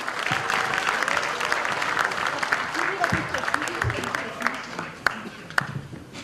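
Crowd of party members applauding to welcome a pianist at a provincial party launch event, sustained clapping from many hands with scattered louder claps and voices mixed in as it thins out.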